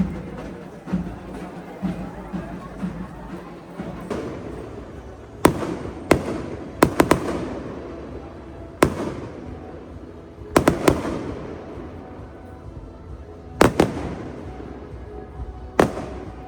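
A night fireworks display over a village during a summer festival: sharp loud bangs and crackles burst at irregular intervals over a low rumbling crowd murmur, some reports near and others further off.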